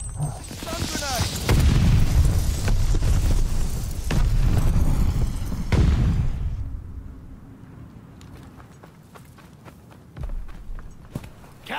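In Call of Duty Vanguard, a stun grenade detonates with a loud boom amid rumbling battle noise, footsteps and scattered impacts, while voices shout over the chaos.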